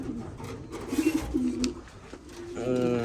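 Racing pigeons in a loft give soft, low rounded coos, a few repeated calls close by, with a fuller burst of cooing near the end.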